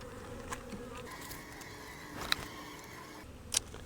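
Honey bees buzz steadily around hives during a three-way fall hive combine, a continuous insect hum with a few brief louder passes close by.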